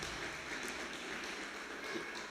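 A church congregation applauds during a sermon, producing a soft, steady wash of clapping that continues without break for a couple of seconds.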